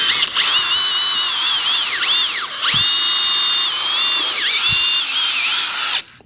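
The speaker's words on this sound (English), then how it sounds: "My drill's not liking this today." Close power drill pre-drilling a 4x4 post, its whine steady but dipping in pitch several times as the bit loads up, with a couple of low knocks before it cuts off.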